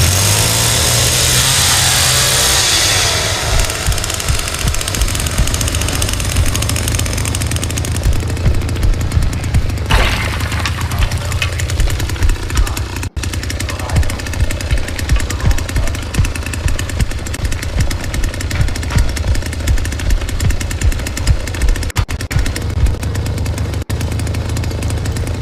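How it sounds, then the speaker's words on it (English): A chainsaw runs in the Texas Chainsaw Massacre video game, a loud, continuous, rattling engine drone with rapid pulsing that carries through the whole stretch alongside other game noise. "Another chainsaw now."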